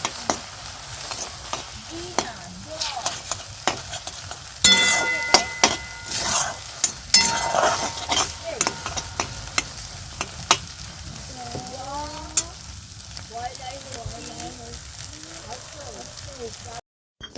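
Maggi noodles sizzle and fry in a pan while a utensil scrapes and stirs them in irregular bursts, close and fairly loud, with someone talking over the cooking.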